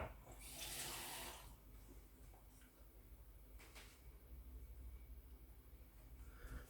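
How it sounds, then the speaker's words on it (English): Water runs from a tap and is poured into homemade pizza dough in a kitchen, a steady close splashing burst at first, then a quieter trickle continuing in the background. "let's add a little bit more water then"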